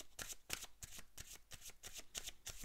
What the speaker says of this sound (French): on va tirer encore une dernière carte, les cartes de couleur